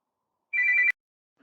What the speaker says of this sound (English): Oh, hang on, the phone's ringing.